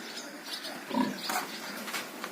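A farm pig, a bred sow grazing on garden weeds, gives a few soft grunts and oinks at close range over quiet background.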